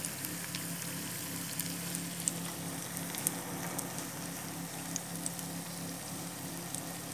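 Sprouts lumpia sizzle in hot frying oil, a steady crackling hiss with scattered small pops, fairly close and with no talking.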